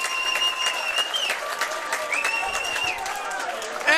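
Crowd applauding and cheering a long kick at a WAFL Australian rules football match between Perth and Subiaco, steady broad applause with whistles, a commentator talking over it.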